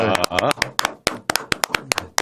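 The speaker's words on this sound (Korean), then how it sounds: "박수 한번 쳐드립시다" A few scattered, sharp hand claps break through in an uneven rhythm during a Korean political talk show, mixed with close talking voices.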